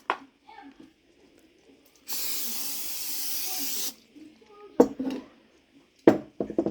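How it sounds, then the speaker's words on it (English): A steady hissing cooking spray from a can lasting about two seconds onto cut buttercup squash, preceded and followed by quiet handling clatter and brief knocks. "I'm going to spray these after they're cut."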